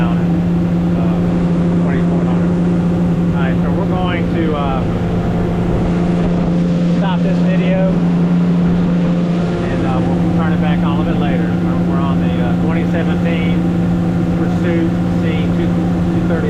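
A Pursuit 238 C motorboat cruises steadily, its engine giving a loud, constant drone with water rushing and wind buffeting throughout, while someone talks over it.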